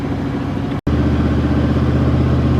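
A Ford LTD car engine idles steadily while warming up, a close, even low rumble with a regular throb, broken by one brief cut-out under a second in.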